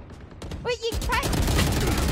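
Video game gunfire, a loud burst of rapid shots that becomes a continuous, close rattle, with a voice calling out over it at the start.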